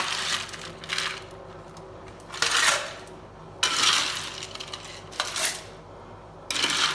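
Ice cubes tumble into a cocktail shaker for a Long Island iced tea in several separate bright clattering bursts, close and loud, with quiet pauses between each drop.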